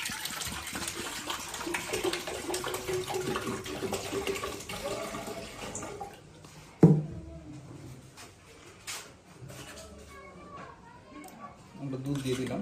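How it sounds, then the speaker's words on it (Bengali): Cold water gushes and splashes into a coffee machine, loud at first and then easing into a thinner trickle. A person talks over and after the pour. "আবার আমরা ঠান্ডা পানি নিয়ে নিচ্ছি"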